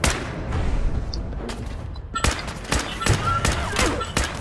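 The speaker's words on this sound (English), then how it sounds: "High capacity combat rifle," Fallout 4 high capacity combat rifle firing in the game, a series of sharp single shots, sparse at first and then quicker, loud and close with no talk over them.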